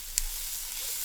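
Dried garlic sizzling steadily in a hot pan, a continuous hiss with one brief sharp crackle near the start and no voices.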